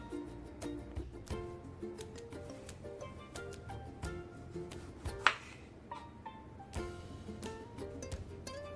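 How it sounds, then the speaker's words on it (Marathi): A knife chops onion and tomato on a board in a home kitchen, giving a run of sharp, irregular taps over a steady bed of soft background music, with one louder knock midway. "आता आपण कांदा आणि टोमॅटो ही कापून घेऊया"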